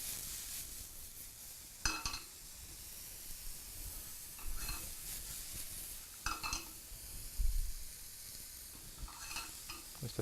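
Mushrooms are tossed in an oiled frying pan for breakfast, with a steady soft sizzle broken by several scraping, rattling tosses at irregular moments, close and quiet, without speech.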